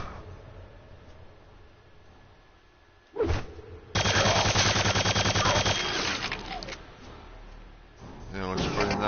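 Machine gun fire in Quake II 64: a loud burst of rapid automatic shots kicks in and rattles on, then fades as other game sounds take over, with someone talking over parts of it.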